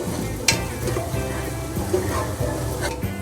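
A steady sizzle of tempering spices roasting in a hot pan for aloo matar, with a few sharp clinks of a utensil stirring against the metal.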